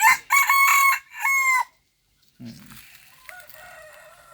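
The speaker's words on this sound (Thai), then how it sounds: "ไก่รุ่น แต่ก็สวดเสียงดีครับ" A young rooster crows loudly nearby in a few strained, slightly cracking bursts, followed by quieter background clucking and rustle.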